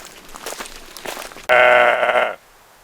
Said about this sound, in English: Just saying hello to the goat living up there.